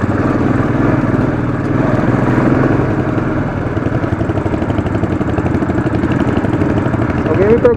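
A Royal Enfield Classic 500 motorcycle labors loudly and steadily up a steep cement road, with its single-cylinder engine thumping close by throughout and a voice speaking over it.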